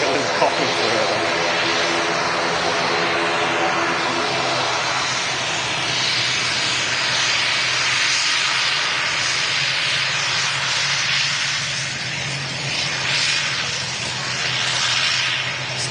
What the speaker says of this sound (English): Logan Air ATR 72 coming in from Newquay